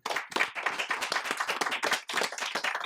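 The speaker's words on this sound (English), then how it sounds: "So I think we should all applaud Lydia and the group here for coming up with this idea" Audience at a Davos forum applauding, a brisk burst of close, crisp hand claps in a busy uneven rhythm with one brief dip, fairly faint overall and free of speech.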